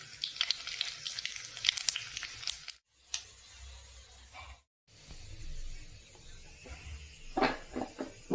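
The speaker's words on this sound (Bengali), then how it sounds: "মশলাটা ভাজা হয়ে গেছে" Bay leaf, dried chili, garlic and five-spice seeds crackle and sizzle in hot oil for a gondhoraj lemon and raw mango pickle, with bursts of spitting and short silent gaps.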